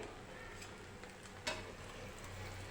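Methi rava uttapam frying in oil on a pan, a soft, continuous sizzle with light crackles and one sharper pop midway, close and fairly quiet with no talking.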